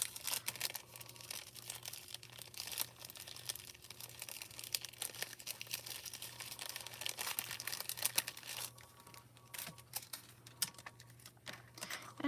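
Scraps of glitter foil handled and crinkled up close, a continuous crackling and rustling with quick irregular bursts over a low steady hum.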